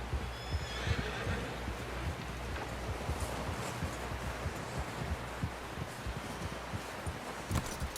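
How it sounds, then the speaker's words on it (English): A horse neighs and whinnies over steady clip-clopping hooves in the video game Red Dead Redemption 2, with rustling in the background and no voices. "Someone help John down off this horse"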